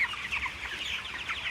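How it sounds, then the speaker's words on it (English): Chickens at a crowded farm give continuous soft, overlapping clucks, close and fairly quiet, with no talking. "I'm covered in chickens right now."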